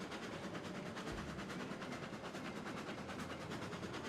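Steam locomotive in the Railroad Online video game rolling steadily along the track at a modest full speed, a continuous dense rumble with faint rhythmic clatter, fairly loud and close with no talking.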